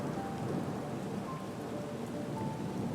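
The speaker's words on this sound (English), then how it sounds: "followed by a big clap of thunder, and the rain started coming down very hard." A thunderstorm with heavy rain makes a dense, continuous hiss and rumble at even loudness, a steady downpour with no distinct separate thunderclap and no talking.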